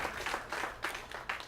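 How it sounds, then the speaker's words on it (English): Light, distant applause from an audience at a Los Angeles affordable-housing dedication, a soft wash of clapping with a few louder bursts. "We should give each other a big, big round of applause for what has been accomplished here today."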